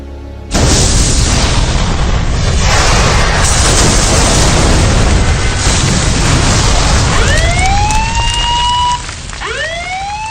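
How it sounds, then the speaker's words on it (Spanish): A sudden explosion in a ship's engine room, an audiobook sound effect, erupts as a loud, sustained roaring blast, then fades while rising siren-like wails sweep in near the end. "La explosión ocurrida en la sala de máquinas a las 2 horas nos cogió completamente de sorpresa."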